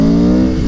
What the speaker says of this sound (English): I love the sound of this bike.